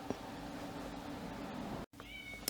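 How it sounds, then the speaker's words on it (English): A house cat meows faintly in the background of a quiet room, a couple of short thin calls among soft rustling, after a brief dropout. "So if you hear her meowing in the background, that's why."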